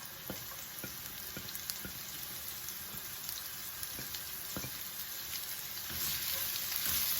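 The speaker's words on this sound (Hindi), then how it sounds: "हाई हीट पे हम इसको स्टर फ्राई कर लेंगे सबको।" Onion and mixed vegetables stir-fry over high heat for beef chow mein, giving a steady, loud sizzle with occasional sharp ticks and pops, rising slightly toward the end.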